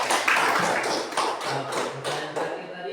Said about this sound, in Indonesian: sekali lagi mari kita tepuk tangan untuk